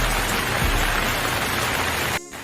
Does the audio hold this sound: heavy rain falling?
yes